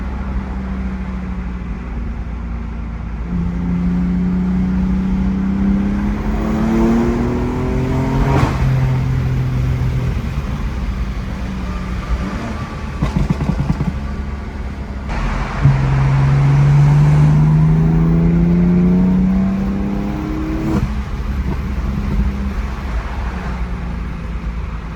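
A 600hp BMW F82 M4 drives on an Ohio road trip, its engine droning loudly inside the cabin, with two distinct rising accelerations through the gears over steady road rumble and no talking.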